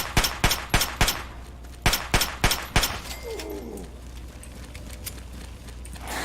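Gunshots in Fallout 3 ring out as sharp, separate cracks, a quick group of four followed by three more after a pause, then a quieter stretch with a faint chirping tone.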